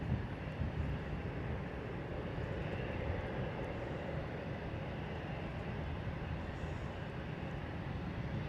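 Airbus A319 bound for Glasgow spooling up to takeoff power on runway 25 at London Luton, a broad steady engine roar that holds even and unbroken at moderate distance.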